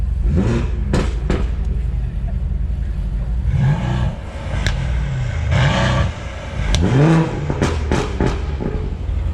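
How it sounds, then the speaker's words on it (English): A 500 hp BMW 440i engine revs several times in New York City traffic, rising and falling roars with sharp pops and crackles between, while people talk in the background. "Let's do a little rev, see if he does it."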